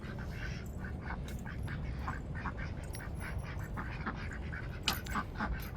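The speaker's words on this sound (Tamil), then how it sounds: "எங்கள் வாத்து பிள்ளைகளை அடைக்கிறதுக்கு நேரத்தை பாருங்கள்" Soft, continuous quacking and peeping from a group of ducklings being herded into their pen at night, over a steady outdoor hiss, with no talking.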